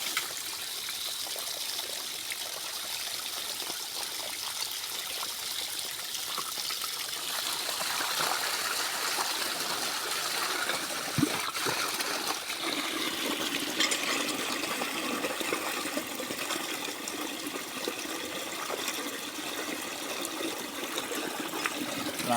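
Irrigation water rushes and gushes steadily through an opened chamber at night, a continuous roaring flow close by that grows slightly fuller midway.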